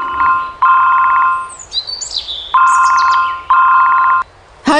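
A mobile phone rings with a repeating electronic ringtone in bursts, loud and close, broken by brief higher chirping tones between rings.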